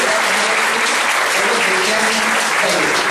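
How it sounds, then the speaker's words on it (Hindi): Loud, dense applause from an audience at a lecture fills the whole stretch, steady clapping with no gaps. "फोटो लीजिए, जोर से तालियां बजाइए."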